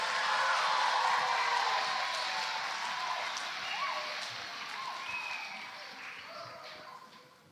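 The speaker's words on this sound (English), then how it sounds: "Give them a round of applause." Audience applause after a major gift announcement to expand Montessori education, a dense steady wash of clapping that starts loud and slowly tapers over several seconds, with a faint murmur of voices underneath.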